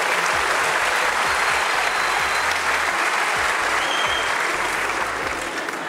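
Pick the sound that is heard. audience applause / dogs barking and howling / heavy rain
audience applause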